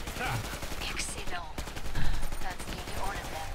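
Rapid automatic gunfire rattles without a break in the video game Killing Floor 2, mixed with game effects and a player's voice briefly over the shooting.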